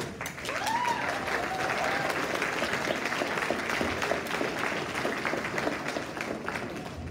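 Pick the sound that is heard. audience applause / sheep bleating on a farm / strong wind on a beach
audience applause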